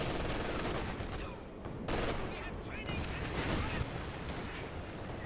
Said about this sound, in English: Now I got some more incendiary mortars being brought in.